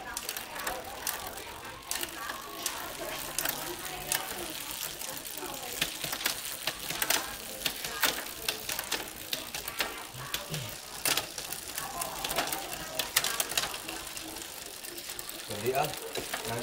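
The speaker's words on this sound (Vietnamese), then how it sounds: "Con này chuyển số chuyển má rất là êm." Clicking and ratcheting of a road bike's drivetrain as gears shift across a 10-speed cassette and the front chainrings, steady mechanical ticking throughout with someone talking over it.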